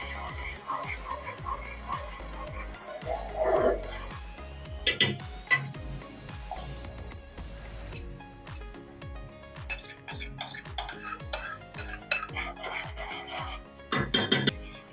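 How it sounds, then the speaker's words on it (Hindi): Vanilla custard mixture is stirred into boiling milk in a pot for an apricot dessert, with intermittent clinks and scrapes of a spoon against the metal pot, close and irregular, separated by quieter pauses. "मैं आहिस्ता आहिस्ता करके इसको डालती जाऊंगी और चलाती जाऊंगी।"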